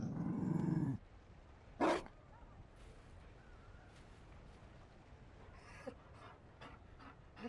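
Mabari war dog in the video game Dragon Age Inquisition, a close growl and pant at first, then a short burst and scattered faint huffs and clicks over a quiet background.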